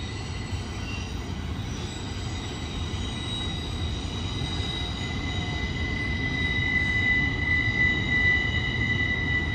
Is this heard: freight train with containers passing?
yes